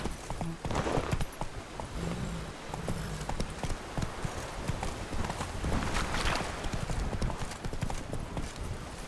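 A horse's hooves clip-clop in The Witcher 3, a rapid, continuous trotting rhythm heard fairly close and steady throughout, with game ambience behind it.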